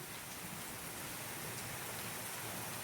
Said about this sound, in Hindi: चारों तरफ बारिश ही बारिश है।